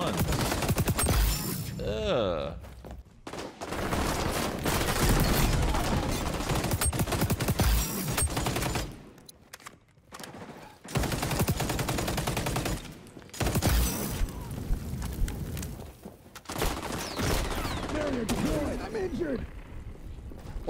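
Gunfire in the video game XDefiant, loud bursts of rapid shots repeating through the clip with short quiet gaps between them, and a player talking over parts of it.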